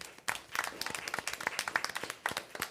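Scattered, fairly sparse hand clapping from a small group at a school board meeting, applauding graduating seniors, heard faintly with uneven individual claps.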